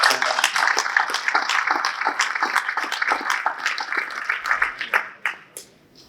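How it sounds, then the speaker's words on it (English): Audience applause for panel leaders at a cancer care discussion: a crisp burst of individual claps, moderately loud and fairly close, that tapers off and fades out near the end. "Give a round of applause to these leaders."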